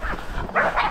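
Short bursts of hunting dog yelps and barks during a boar hunt, fairly close, a couple of excited calls in quick succession over rough background noise.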